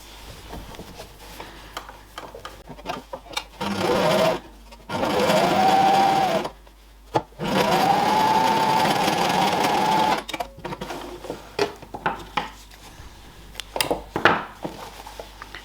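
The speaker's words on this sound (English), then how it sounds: "Once you're happy, you can sew up your gap that you left." A sewing machine stitches up the gap in a golf club head cover in two sustained close bursts of rapid mechanical whirring, separated by pauses filled with handling clicks and taps.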